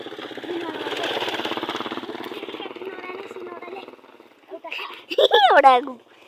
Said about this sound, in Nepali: गाइस एउटा बाइक आए